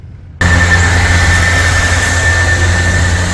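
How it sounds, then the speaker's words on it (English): Cooling fans on a Zero electric motorcycle switch on during AC charging, giving a steady, loud whooshing hum with a faint high whine, running continuously after a sudden start. "So on the Zero, you can hear the fans going while it's AC charging."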